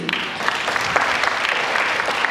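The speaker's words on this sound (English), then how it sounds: "A big round of applause for him, please." An audience at a dance recital claps steadily in a room, a dense, even patter of many hands with a few sharper individual claps standing out.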